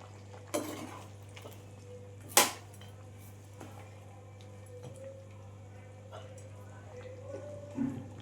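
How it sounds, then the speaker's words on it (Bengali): A utensil stirs mutton korma in a cooking pot, with a few sharp metallic clinks and knocks spread apart over a faint steady hum in a quiet kitchen. "ঢাকনাটা খুলে আমি একবার মটনটা নাড়াচাড়া করে নেব।"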